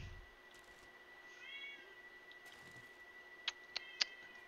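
A vocal pet cat named Princess meows in a few short, sharp calls near the end, after a quieter stretch with a steady faint background hum.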